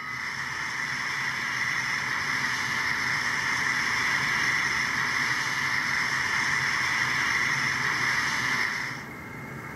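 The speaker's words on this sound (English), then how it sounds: "F4 is a steam release." Steam release effect from a sound decoder in a Bachmann N scale K4 steam locomotive: a steady, loud broadband hiss held for about nine seconds, then cutting off abruptly.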